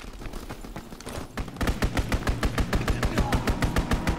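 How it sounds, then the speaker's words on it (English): A strafing run in a multiplayer shooter on an airship domination map unleashes rapid, evenly spaced automatic gunfire, loud and close, after a second of scattered shots. "Strafing run inbound."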